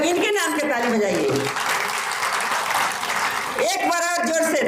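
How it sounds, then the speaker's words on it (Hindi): Crowd applause at a Hindi-language Women's Day stage event, steady dense clapping filling the whole stretch, with a voice speaking over the start and the end. "एक बार बिकी जी के लिए आप लोग इनके नाम के ताली बजाइए।"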